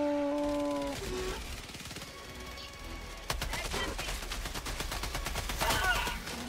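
Gunfire from the video game Helldivers 2, dense overlapping shots and bursts packed into a near continuous fusillade that grows louder partway through, with game music and effects underneath.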